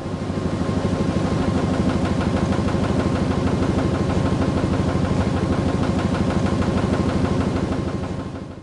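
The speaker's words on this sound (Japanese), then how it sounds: "脱水時にドラムの回転数が上昇し、本体と共振して発生する音です。" A Hitachi BD-V5500 washing machine during its spin cycle, the drum turning fast and the cabinet resonating, giving a continuous loud droning hum with a steady rapid pulsing throb that holds even from start to end.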